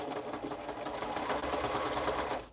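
A noisy home sewing machine stitching curved quilt pieces at a short stitch length, running in a fast, steady mechanical whir with rapid needle clatter, close and continuous before stopping abruptly at the end.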